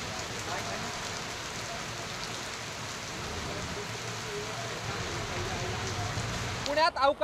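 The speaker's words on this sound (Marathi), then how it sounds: "गेल्या अर्धा ते पाऊण तासापासून पुणे शहरासह उपनगरामध्ये जो आहे तो मुसळधार पाऊस पडतो आहे" Heavy, unseasonal rain pours over Pune city and its suburbs, a steady, dense close-up roar of drops drumming on surfaces that holds evenly throughout, broken by a few sharper knocks and rustles at the very end.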